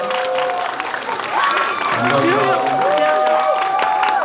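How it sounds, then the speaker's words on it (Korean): Cinema audience at a CGV Wangsimni stage greeting applauds and cheers as the film's actors arrive, a loud busy crowd roar with clapping, while whistle-like tones and voices rise over the noise. "여러분들 들어오실 때큰 박수로 한 번으로 맞아주시면 감사하겠습니다."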